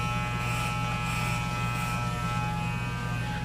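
A barber's electric hair clipper runs with a steady, close mechanical buzz and a strong low hum, holding an even level throughout with no talking.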